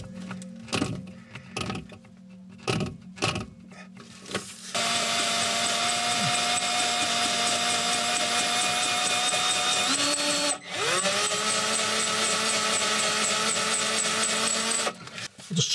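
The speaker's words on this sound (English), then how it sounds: "the last one is so tight that I'm actually going to have to use the impact" Several short bursts from an impact driver loosening a tight screw on an oven element, then a sustained high-pitched whine that briefly dips and restarts, continuing loudly until near the end.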